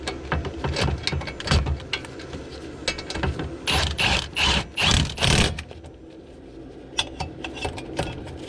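Quick bursts of a ratchet wrench clicking as bolts are tightened on the rear wheel hub of a 2006–2010 Infiniti M45, loud close rapid ratcheting in irregular spurts with short pauses between.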